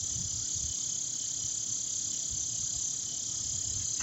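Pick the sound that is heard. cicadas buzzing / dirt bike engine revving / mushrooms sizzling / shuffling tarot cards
cicadas buzzing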